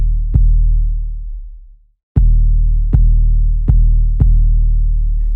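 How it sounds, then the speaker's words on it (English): Clean, subtle 808 bass from the VIPSL 808 Bangz Sub Woofer Engine Kontakt instrument: one long booming hit that sinks in pitch and fades out, then four punchy sustained hits in a steady rhythm, loud and alone. "we can get very, very clean, very subtle 808s."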